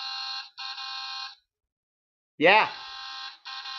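Electronic beeping alarm-like tones and a short rising warble from a Transformers toy's built-in lights-and-sounds feature, heard in two bursts with a gap of silence between them, with a brief spoken word.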